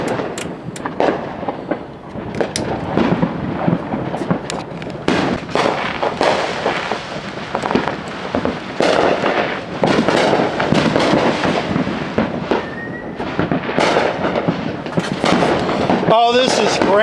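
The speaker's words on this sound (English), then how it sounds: "We got the fireworks in the neighborhood." Neighborhood fireworks crack and boom continuously, dense loud bursts overlapping one another near and far, with a rising whistle late on and a sharp bang near the end.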